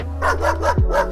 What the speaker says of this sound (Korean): 개 짖는 소리가 절로 나온다.